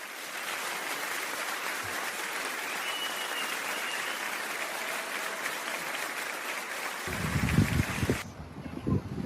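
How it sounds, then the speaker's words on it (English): Steady, dense clapping from a crowd fills the clip, continuous and fairly loud, ending with a brief burst of low rumbling noise near the microphone. "If you've got kids, you know why I'm clapping at that one."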